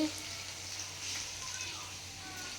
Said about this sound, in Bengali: এখানে আমার কড়াইতে পেঁয়াজ ভাজা হচ্ছে।